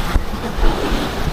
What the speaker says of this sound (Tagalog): Ayan o, lalakas ng alon no.